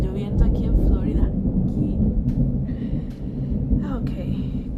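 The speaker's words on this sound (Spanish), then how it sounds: "está lloviendo aquí en Florida." Rain and thunder in Florida make a heavy, continuous low rumble with a steady wash of rainfall, and faint voices sit above it.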